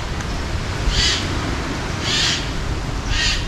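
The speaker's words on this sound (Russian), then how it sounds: "Только птичка кричит." A bird calls three times in slow, evenly spaced bursts on a seaside promenade by the central beach, clear over a steady low background rumble.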